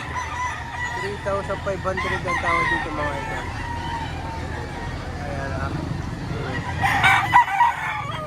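A rooster crows faintly in the background while people talk over it, with a louder call rising near the end, at a poultry market in Lipa, Batangas.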